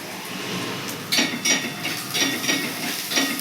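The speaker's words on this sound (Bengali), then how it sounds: "পেঁয়াজটা একটু ভাজা ভাজা হয়ে গেলে এই মাছগুলো দিয়ে দেবো" Onions sizzle in a pan while a utensil stirs them, with a steady soft frying hiss broken by repeated scraping and light clinks against the metal.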